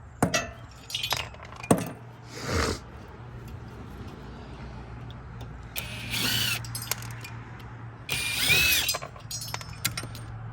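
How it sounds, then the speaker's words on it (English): Screws being removed from a scrap power supply to salvage copper, brass and aluminum, with scattered metallic clinks and clatter of small parts and tools, moderately close, in bursts with quieter gaps and no talk. "we're just battling our way through all of these screws. There's a ton of them."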